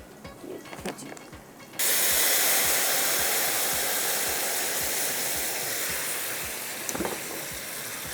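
Excess water drains off cooked jasmine rice in a kitchen, a sudden loud, steady rush of pouring water that runs on for several seconds after a quieter start.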